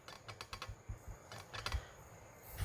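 Code is typed on a computer keyboard in quick, irregular bursts of soft key clicks, faint and close by, with no voices.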